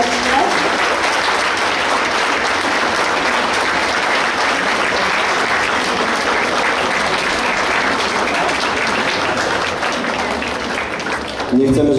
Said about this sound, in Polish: raz jeszcze wielkie brawa za ich pokazy taneczne